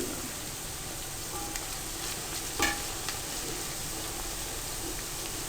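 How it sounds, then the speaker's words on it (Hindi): Whole spices, black cardamom, cloves and bay leaves, sizzle and fry with onions in a pot for chicken masala, a steady soft hiss with an occasional light stir or clink. "इनको आप मिक्स करें और ये साथ साथ फ्राई होंगे"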